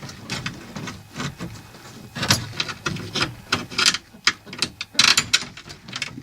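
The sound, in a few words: ratchet fastening door bolts on a cop car door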